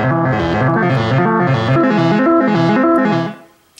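A Baroque synthesizer patch plays a bright, buzzy tone whose pitch steps up and down in coarse stages from a bit-crushed LFO triangle wave, repeating in a steady rising-and-falling cycle before the sound cuts off.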